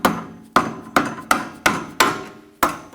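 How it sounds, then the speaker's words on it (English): Hammer tapping a bolt into the front rearward upper control arm of a 2004-2009 Audi A4 Quattro suspension: seven sharp, close metallic knocks at a steady, slightly uneven rhythm, each ringing briefly before the next, with no talking. "Tap the bolt in."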